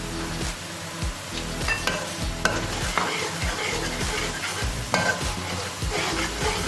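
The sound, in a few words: onions frying with fennel, nigella and fenugreek seeds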